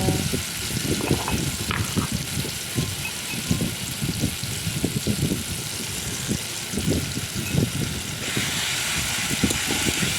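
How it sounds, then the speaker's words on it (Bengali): Ground pointed gourd paste fries in a pan with salt and turmeric to make a mash, giving a steady close sizzle over repeated low, thudding spatula stirs, with no talking. "তারপরে একটু নুন আর হলুদ দিয়ে ভালো করে ভেজে নেব"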